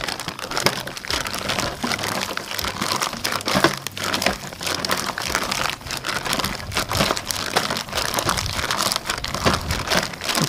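Beef is kneaded by hand with pepper and garlic, giving a steady run of wet squelching, crinkling and squishing sounds, close and continuous, with no talking.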